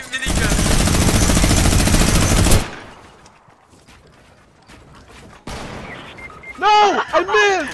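A minigun in a video game fires one long loud continuous burst up close, then stops; scattered thumps and a later burst of game sound follow.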